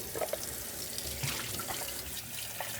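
Running water from a tap rinses the milk carafe of a Gaggia Babila espresso machine at a sink, a steady, moderately quiet splashing stream with small drips and no voices.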